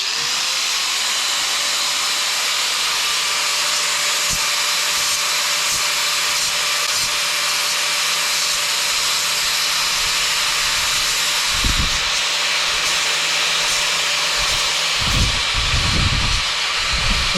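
Grinder taking a burr off a Dillon RL 550 reloading press plate, with a loud, steady, hissing whine that holds throughout, broken near the end by a few thumps and scrapes.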